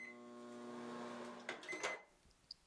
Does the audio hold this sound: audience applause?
no